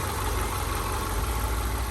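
A Subaru Outback with a swapped-in EJ203 engine idles slightly low because of an exhaust leak, giving a steady, loud, continuous rumble with an even low-frequency pulse and no talking.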